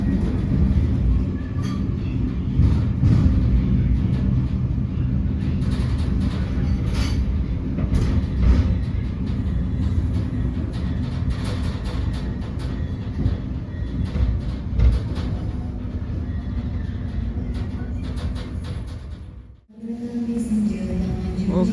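A train hauled by two locomotives in double traction pulls into Kroya station in the evening, a steady loud rumble of wheels and rail noise throughout, dropping briefly near the end before resuming.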